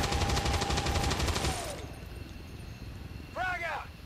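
Rapid automatic gunfire in XCOM 2 Long War, a dense rattling burst that cuts off and gives way to a low rumble, while a voice talks over it.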